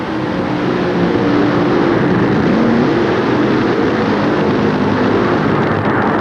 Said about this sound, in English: Back on the starting line, our next pair fired and ready to go.